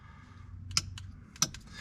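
Two crisp clicks of a light switch turned on and off in a Grand Design Imagine RV, about half a second apart, against a quiet background hum.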